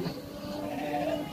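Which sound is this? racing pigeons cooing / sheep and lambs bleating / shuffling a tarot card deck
sheep and lambs bleating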